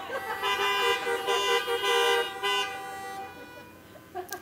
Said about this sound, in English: Honk, honk, honk.